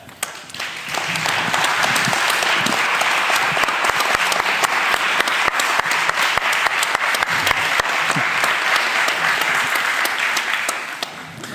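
An audience claps together during a debate-style show-of-hands vote, a dense, loud, sustained wash of applause that swells in quickly, holds steady for around ten seconds, then tapers off.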